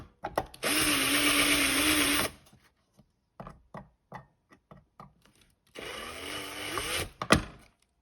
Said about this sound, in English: I'm gonna drill that out now, and we'll see if this works